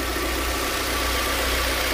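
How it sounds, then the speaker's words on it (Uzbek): A JAC Sunray minibus engine idles with a steady, even mechanical hum and a constant low drone, close and unchanging throughout, with no voices. "Motori ishlab turibdi."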